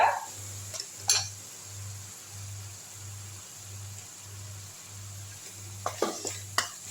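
Ground paste sautéing in oil in a pan while making a pickle: a soft, steady sizzle under a low rhythmic electrical hum, with a few sharp clinks of a utensil scraping the pan near the start and end.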